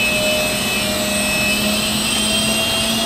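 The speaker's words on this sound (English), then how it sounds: "We're just manually overriding the spindle up." The spindle of a DMG DMC 65V vertical machining center whines at high speed, a steady loud tonal drone with a broadband rush that holds constant throughout, with no voices.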